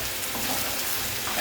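Fried potatoes with corned mutton sizzle in a pan in an even, continuous hiss, with faint stirring underneath and a brief scrape at the end.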